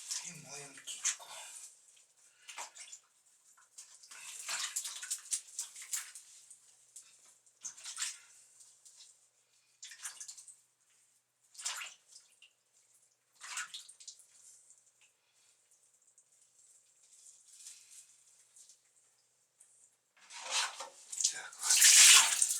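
A pet pigeon is washed in water, with intermittent splashing and sloshing in bursts that fade and return, growing louder near the end.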